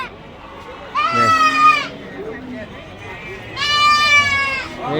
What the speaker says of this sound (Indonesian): Ini domba-domba sakup.